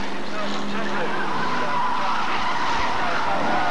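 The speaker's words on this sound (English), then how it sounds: "And 43 Mark Tubey spins out." Hot stock car skidding and spinning out on an oval track at Birmingham, a loud sustained tire squeal and engine roar from several racing cars, with a commentator talking over it.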